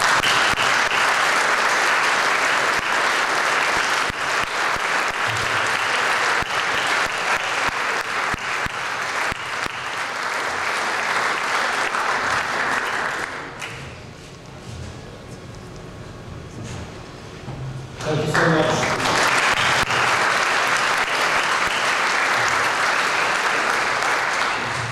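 A dinner audience applauds the 2014 Royal Gold Medal award with loud, sustained clapping from a large crowd. The applause thins briefly partway through, then swells back to full strength.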